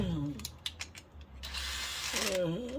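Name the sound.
screwing a part into a watch winder conversion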